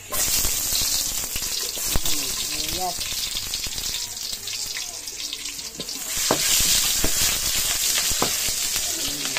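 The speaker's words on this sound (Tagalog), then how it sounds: "Nalagay na natin yung bawang. Mix natin ang sibuyas." Garlic and onions sauté in a hot pan as the base for a mussel and water spinach dish, giving a steady, close sizzle with occasional scrapes and clinks of stirring.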